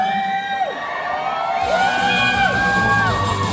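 A lively live audience at a film event cheers and whoops, with rising and falling shouts layered over a continuous roar of voices.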